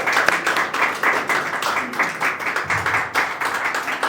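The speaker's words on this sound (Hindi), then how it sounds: "तो एक बार ज़ोरदार तालियां हो जाए ललित सर के लिए।" Loud, sustained applause and clapping from an audience at an Urdu and Hindi poetry recital, honouring Lalit sir, forming a dense crackling wash that continues steadily throughout.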